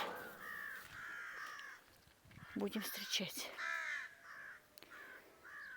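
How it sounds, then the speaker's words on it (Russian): A raven caws repeatedly in a steady series of harsh calls while a person speaks briefly over them, with faint background noise. "Что, ворон у нас?"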